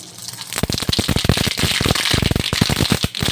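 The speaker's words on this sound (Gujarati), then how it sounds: "તેલ ગરમ થઈ ગયું છે તો આપણે એમાં થોડીક રાઈ નાખશું, થોડુંક જીરું નાખશું, થોડાક તલ નાખશું" Mustard seeds, cumin and sesame seeds crackle and pop in hot oil, a dense run of sharp, close spits and snaps that keeps going with no voices over it.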